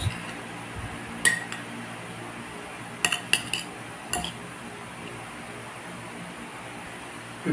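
Misua noodles, grated carrot and egg batter stirred in a bowl with a utensil, giving a few scattered clinks and scrapes against the dish over quiet background.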